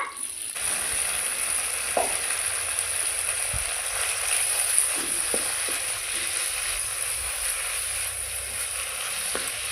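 Drumstick leaves sizzling in hot oil, a loud, continuous close-up hiss with a few faint clicks from the pan, with no talk.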